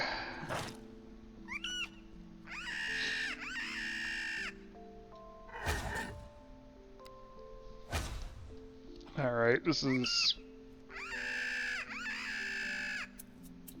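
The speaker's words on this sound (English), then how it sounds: "The fact they make bird noises" Newly hatched creatures in the video game Spore let out chirping, bird-like calls in several short bursts over soft game music, and someone briefly speaks near the start.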